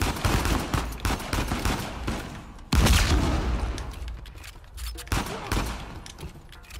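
Bursts of gunfire rattle in the video game Uncharted 4, with repeated sharp shots and heavy volleys in a fast, uneven rhythm, some loud and close, with a few voices briefly heard underneath.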